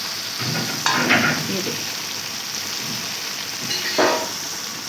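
Okra with masala and lemon frying with onions in a pan, a continuous loud sizzle broken by stirring scrapes, with brief speech over it.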